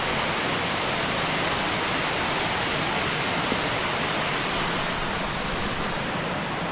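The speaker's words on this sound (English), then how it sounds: "There is literally a waterfall every 10 feet." Waterfall tumbling through a rocky gorge in the Finger Lakes region in autumn, a dense, steady broadband roar of rushing water filling the whole stretch without a break or any voices.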